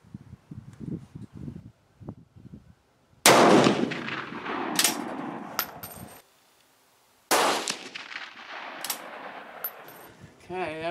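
Two loud, sharp rifle shots from a Swiss Model 1940 K31 at an outdoor shooting range, each a sudden blast with a long decaying tail, preceded by quieter handling clicks and thumps.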